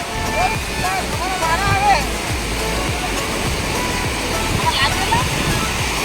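Jamjir waterfall pours in a steady, full rush of falling water heard nearby, with people talking loudly over the continuous roar.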